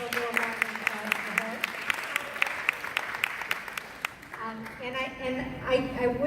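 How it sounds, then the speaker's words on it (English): Audience applause at a reception, moderate clapping from a small gathering heard under a speaking voice, with talk continuing as the clapping thins out. "give a little round of applause for"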